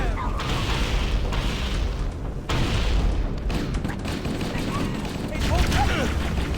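Grenade blasts and booming gunfire in the Halo video game, loud and dense with a few heavy bursts amid constant battle noise, with a voice talking faintly underneath.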